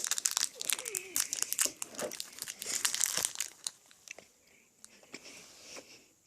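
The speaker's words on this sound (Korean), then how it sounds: "아 뜯어 일단 뜯고" Crinkly plastic candy wrapper is torn open up close, with a flurry of sharp crackling rustles and ripping bursts that thin out into scattered softer crinkles toward the end.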